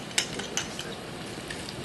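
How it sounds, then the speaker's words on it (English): Garlic and fresh ginger are stirred into browning onions in a pan, giving a soft sizzle with a few sharp utensil scrapes and clinks against the pan, close and fairly quiet. "I'll put that in there and stir it in so it can brown with it."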